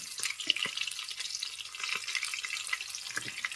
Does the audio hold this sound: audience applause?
no